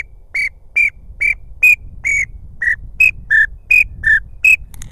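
A pintail duck call whistle blown outdoors, giving eleven short, shrill, evenly spaced chirps that alternate slightly high and low in pitch, loud and close with no talking.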